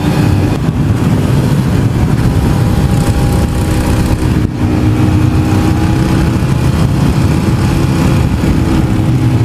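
A Derbi Mulhacen Cafe 125 motorcycle engine roars continuously and loudly up close, its tone holding steady with only a brief dip midway.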